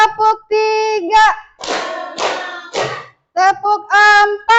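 During an ice-breaking game, a group chants in unison and then answers with quick rounds of clapping, three brisk clap bursts sitting between stretches of loud group voices.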